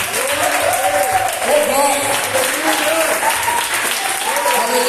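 A church congregation claps loudly and continuously, a dense sustained wash of applause while a voice calls out over it.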